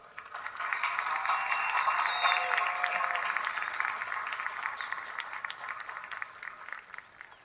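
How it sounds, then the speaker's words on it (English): Audience at a college business administration commencement ceremony applauding, a steady wash of clapping from a crowd heard from within the seats, gradually thinning out. "Let's give him a round of applause."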